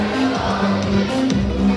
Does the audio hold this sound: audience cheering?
yes